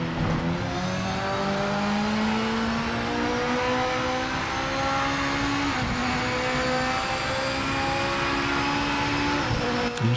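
A race car engine in the Project Motor Racing sim roars loud and close, its pitch climbing through gear changes with sharp shifts and rev drops, no talk over it.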